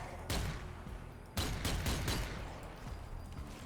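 Gunfire in the video game Zombie Army 4: Dead War, two sharp loud shot bursts with a cluster of rapid follow-up cracks and echoing tails, close and punchy, under faint talk.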